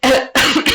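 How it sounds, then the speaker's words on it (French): Two close, loud coughs from a single person indoors, a sharp burst followed by a second slightly longer one, with no talking around them. "j'ai même pas toussé dans mon coude"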